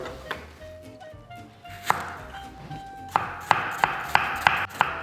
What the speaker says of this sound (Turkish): Soğanları ince ve yemeklik doğruyorum.